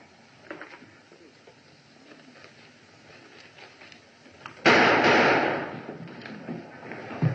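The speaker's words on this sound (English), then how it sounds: "What's that shooting?" A sudden loud burst of gunfire during a prisoner's escape in a 1940 mystery film, a sharp crack followed by a decaying noisy rumble after quiet dialogue-level background.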